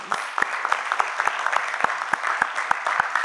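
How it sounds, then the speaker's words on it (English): Brief burst of applause from a modest group for two teams at a judged competition, individual claps distinct and fairly close, steady for a few seconds. "Let's give a hearty and well-deserved round of applause to both teams."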